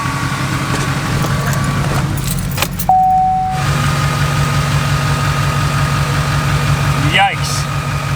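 A truck engine idles steadily with a low, even rumble throughout, mixed with jangling keys and a brief chime partway through.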